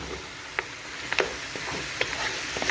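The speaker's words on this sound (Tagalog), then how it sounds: "Kailangan gisan-gisa natin ang ating lamb para ang ating rice ay very tasty." Lamb sautés in a pot for Bukhari rice, with a steady close sizzle and scattered sharp crackles and stirring clicks spaced irregularly throughout.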